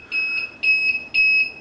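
Akasa FC Trio fan controller sounding its alarm after the fan speed was turned up too quickly: three loud, shrill electronic beeps in an even pulsing rhythm, close and alone.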